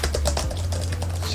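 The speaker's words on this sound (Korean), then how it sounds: "지금부터 타건감을 보여드리도록 하겠습니다" Typing on a Samsung Galaxy Tab S7 keyboard cover, a fairly quiet run of soft, rapid key clicks heard up close, with a steady low hum beneath.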